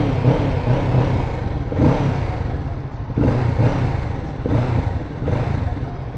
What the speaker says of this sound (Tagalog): Stock exhaust. Ito ang tunog niya.